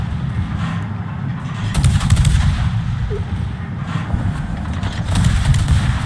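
Naval gunfire in the World of Warships video game sounds as a steady, heavy battle rumble with louder bursts of booming salvos rising and falling over several seconds.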